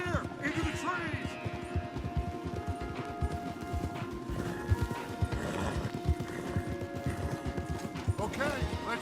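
Horse hooves galloping in Red Dead Redemption 2: rapid, continuous clip-clop of several horses close by, with whinnies and neighs rising now and then and faint background sounds beneath the steady pounding rhythm.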